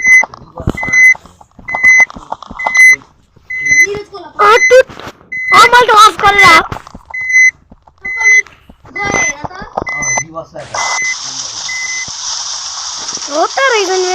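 Repeated electronic reversing beeps sound from a bus in a multiplayer bus driving video game, pulsing steadily for about ten seconds under someone talking, then giving way to a steady hiss of rain.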